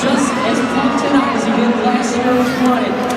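Cheering and applause from a large arena crowd at a Monster Jam show rise as a broad, steady roar with scattered whoops. A commentator's voice runs loudly over the top.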